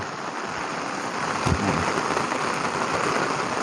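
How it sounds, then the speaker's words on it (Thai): Steady rain falls on the ground beside the Lam Phra Phloeng dam in Thailand, a continuous broadband hiss with a brief low rumble partway through; no one speaks. "ตอนนี้ฝนตกกับพื้นมีอาการลื่นนิด ๆ"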